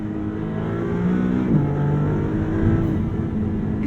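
A Maserati MC20 V6 revs high in its rev range, a loud, gritty, exotic drone that rises and dips as the throttle varies. It is heard from inside the car, with no talking over it.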